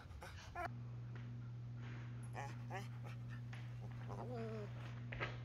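A dog pants close to the microphone in short rhythmic breaths with a few whimpering whines, while a person talks softly over it and a steady electrical hum runs underneath.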